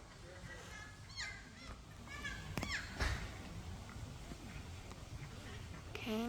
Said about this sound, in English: Hello, Mr. Kookaburra.